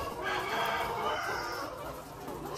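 Dekalb White layer hens on a farm, a dense flock clucking and murmuring continuously at moderate distance, with a steady hum of barn noise underneath and no voices.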